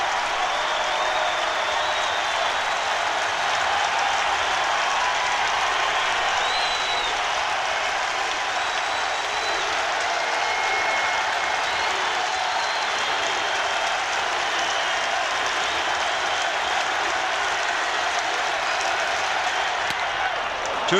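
A crowd of about 43,300 at a Dodgers–Giants baseball game stands, clapping and cheering in a dense, steady roar that fills the whole stretch without letting up.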